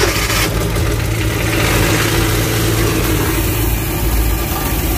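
A Suzuki DA63/DA64 engine with a carburetor runs at a steady idle, low on power and vibrating hard. It gives a continuous rumbling drone, close and loud, with no talk over it.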